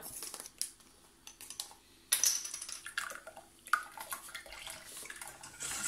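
Vanilla, coffee and whole liquid cream being mixed in a bowl for a coffee mousse: quick clinks of a utensil against the bowl and scattered wet, liquid stirring sounds, close and fairly quiet, with no talking.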